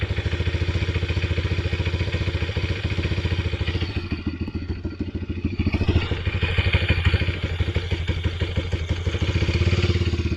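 A 2023 Apollo RFZ Enduro 150cc dirt bike idles while warming up, a steady close single-cylinder putter with a loose clattering beat that dips slightly midway and then firms up again, with no talking.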